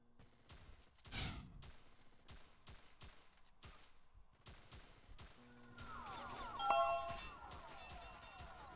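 Gunshots in a multiplayer video game, a series of sharp, separate cracks spaced across the stretch, then denser firing mixed with ringing tones and game effects, fairly quiet overall.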